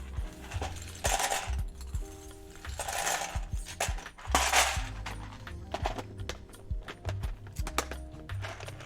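Keycaps pried one after another off a mechanical keyboard during a custom build, giving a run of close, sharp plastic clicks and snaps in irregular bursts, with faint background music underneath.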